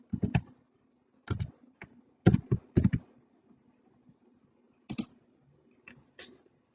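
Mouse clicks and keyboard keystrokes while statistics software is used for data entry, coming in short sharp bursts of several quick taps with pauses between, close and fairly quiet with no voices.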